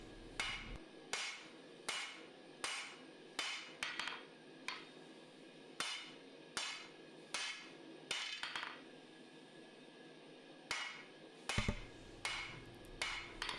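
A hammer forges a steel Bowie knife blade, drawing it out with the peen in evenly spaced, ringing blows, about one every half-second to second, with a brief pause before the strikes resume.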